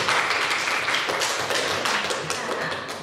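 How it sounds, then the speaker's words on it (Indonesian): Classroom of students at an Islamic junior secondary school clapping for a classmate, a brief burst of scattered, moderately loud applause that fades slightly toward the end. "Beri tepuk tangan untuk Andin."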